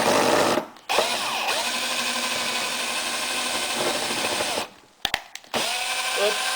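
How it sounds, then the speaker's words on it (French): Power drill drives a 6 mm screw through a tube while a homemade silencer is being built, a steady loud whirring drone that stops briefly twice, with short bursts and a restart near the end. "Au pire vous vous aidez de la perceuse."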